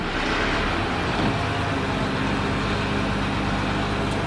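A grab lorry delivering a load of stone for a garden project rumbles with a steady, close diesel engine drone that holds unbroken throughout.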